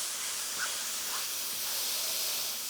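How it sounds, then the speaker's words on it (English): Mushroom slices sear in a pan over high heat, a steady broadband sizzling hiss that stays even throughout, close by with no voices. "Whilst we're searing those mushrooms"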